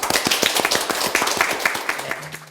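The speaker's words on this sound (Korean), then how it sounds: "박수" Audience clapping at a Korean talk-show lecture on married life, a lively burst of many hands clapping in quick uneven rhythm, close and fairly loud, fading toward the end.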